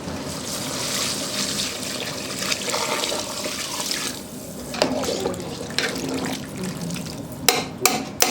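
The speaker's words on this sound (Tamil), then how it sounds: "காய் வேகிறதுக்கு தண்ணி சேர்த்துக்கலாம்." Water pours steadily into a pot of Andhra-style drumstick sambar, a continuous splashing flow that tapers off, followed by a few sharp clinks of utensils near the end.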